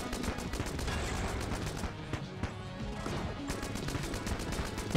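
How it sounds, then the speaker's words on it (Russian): Rapid bursts of automatic gunfire from a homing automatic rifle in Enter the Gungeon rattle on in quick succession, easing briefly midway before resuming. "Пушка Зорга, самонаводящийся автомат с неплохим дамагом"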